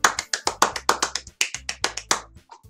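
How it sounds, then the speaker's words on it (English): Rapid sharp claps from a video game in an uneven rhythm, crisp and close, about twenty hits before trailing off into quiet. "I'm the first to start applauding."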